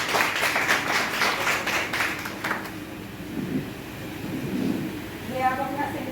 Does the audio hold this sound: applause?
yes